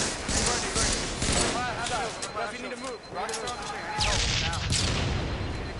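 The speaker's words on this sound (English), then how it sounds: "Captain Anarchy coming under fire from tons of grenades" Grenade blasts and gunfire from a Halo match at MLG Las Vegas 2008 Nationals, a dense steady barrage of bursts and booms under continuous excited commentary.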